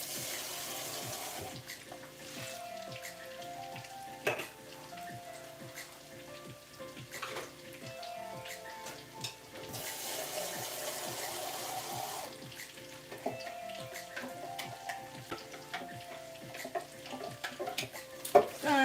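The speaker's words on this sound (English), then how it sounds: "I rinse my beans. I don't keep the water." Tap water runs in bursts while red kidney beans are rinsed in a kitchen, a soft splashing hiss broken by occasional sharp clinks and knocks of beans and a container, fairly quiet and close.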